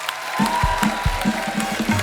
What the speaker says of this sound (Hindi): एक बार जोरदार तालियां हो जाएं हमारे कलाकारों के लिए